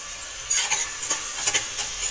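Cumin seeds going into a pan of frying biryani gravy, with a steady high sizzle and several close scraping stirs of a spoon against the pan, no talking.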